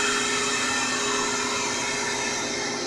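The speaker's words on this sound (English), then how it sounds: "Open the drain valve, let the air in" Air rushes steadily into a freeze dryer through its opened drain valve after drying raw eggs, a constant close hiss with no speech.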